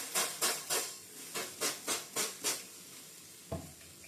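Water is sprayed in repeated short bursts into a hot cast iron pot over scored sourdough dough to make steam, about eight quick even hissing puffs close by, followed by a soft knock.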